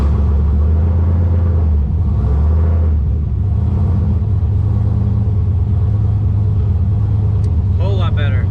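A Foxbody Mustang with an On3 turbo kit and Holley Terminator X fires on a cold start and settles into a loud, deep rumbling idle with a slightly uneven pulse; a voice briefly cuts in near the end.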